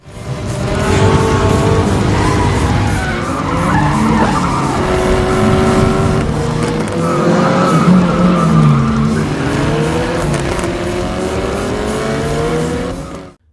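Street race cars in a film race scene skid and squeal their tires continuously, with engines revving loudly throughout and no voices.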